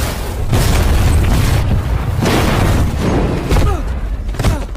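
A bomb blows up in a Rambo action film, a loud, deep rumbling boom followed by further bursts and heavy thuds that roll on close and powerful.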